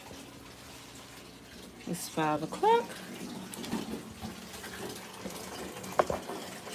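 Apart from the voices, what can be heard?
cold water running into bathtub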